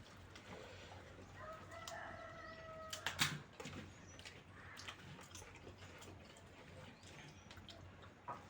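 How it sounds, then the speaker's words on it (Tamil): A rooster crows in a village setting, a clear drawn-out call at moderate distance, followed by scattered clucks and sharp rustles over a quiet outdoor background. "கோழி வந்துச்சு."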